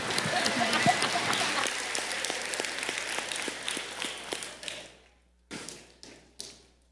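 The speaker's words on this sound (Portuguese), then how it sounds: "Uma salva de palmas." A church congregation claps together in a sustained round of applause that thins into a few scattered, fading claps and final isolated bursts.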